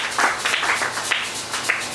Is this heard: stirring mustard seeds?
no